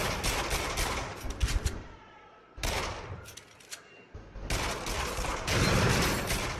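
Shotgun and pistol gunfire in the PSVR shooter Until Dawn: Rush of Blood, loud rapid bursts of shots in three dense volleys separated by brief quieter gaps.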